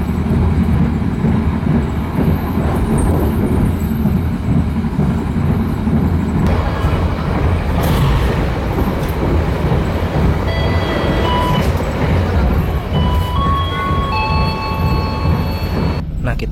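A steady, loud rumble of a moving train heard from inside a business-class carriage of the KA Tegal Bahari, with rattling and faint high squeals over the constant drone.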